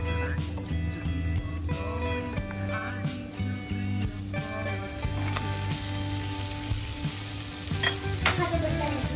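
Sliced mushrooms fry in butter in a pan for broccoli soup, a steady close sizzle broken by clinks and scrapes of stirring.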